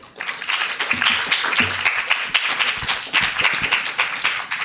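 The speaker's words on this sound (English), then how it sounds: "Esteemed guests, please give a round of applause for Associate Professor Derry Wijaya." An audience of esteemed guests applauds to welcome a speaker at an academic talk, with mixed hand claps and a few low thumps rising quickly and continuing steadily.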